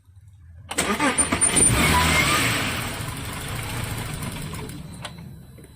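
An Audi Q7 with a stalling, no-start fault cranks loudly, its starter churning in a quick rhythmic pulse for about a second before settling into a sustained whir that fades toward the end, with no talking.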